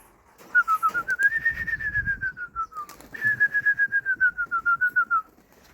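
Pigeons at a pigeon loft, one giving a loud close drawn-out whistling coo that rises and falls in two long pulsing phrases, with soft rustling underneath and no talk.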